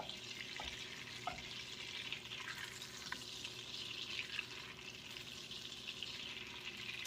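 Something melts in a pan on the stove while preparing an Amish dinner, giving a soft, steady sizzle that stays faint and even throughout, with a few tiny pops and no voices.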